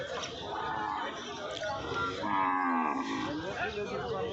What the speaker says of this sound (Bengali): দেখেন এটা খুব সুন্দর গরু